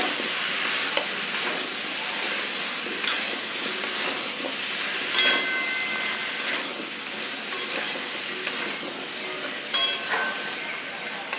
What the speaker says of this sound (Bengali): এটা আমি একটু মশলাটা কষিয়ে নেব